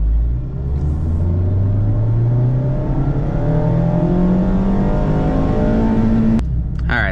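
Mazda ND Miata fitted with a Roadster Sport Race exhaust accelerating hard through the gears, a loud close engine note climbing steadily in pitch for about six seconds before a sudden shift or lift.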